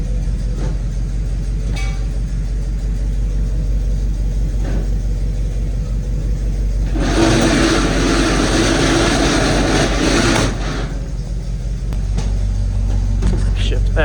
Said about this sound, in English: We will roll the hose back in by pushing this button.